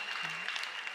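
A crowd applauds and cheers at a CUFF 17 fight event in Trinidad and Tobago: dense, steady clapping fills the whole moment at an even level, with no voice heard over it.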